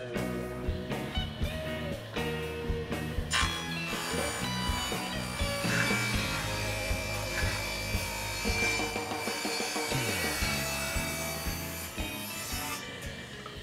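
Saw cutting wood into short pieces for the bottom rails of a room divider's outside panels, a steady rasping cut running continuously and loud throughout, with no talking.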